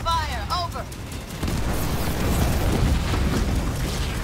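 Mines being shot and blowing up in Halo Wars 2, with a deep, sustained rumbling blast that swells in after a short, chirpy game sound at the start and stays loud to the end.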